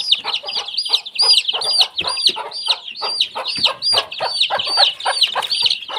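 Hens cluck steadily in quick repeated bursts, many calls overlapping at close range with no talking.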